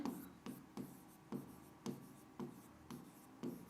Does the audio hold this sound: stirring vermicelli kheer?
no